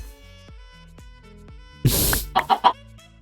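A Minecraft chicken gives a short burst of noisy clucking followed by three quick squawks, close and clear over soft game sounds.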